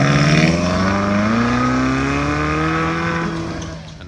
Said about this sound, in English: The Ferrari California is heading out.